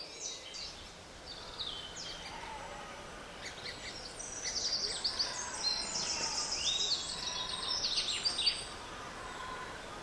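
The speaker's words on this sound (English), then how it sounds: "The woodland canopy is echoing with birdsong." Several birds sing and chirp in the New Forest woodland canopy in early spring, scattered high calls from a distance that grow busier midway, over a faint steady background hiss.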